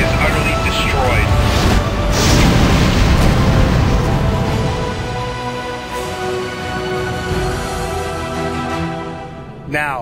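A raider carrier called Medusa blows up in The Babylon Project space combat game, a sustained loud rumbling blast with crackling debris rolling on for several seconds and slowly fading, with voices talking over it.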